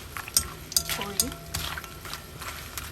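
Raw plantain slices fry in hot oil for traditional Kerala banana chips, bubbling and sizzling while a utensil stirs and clinks against the pan in a few sharp taps.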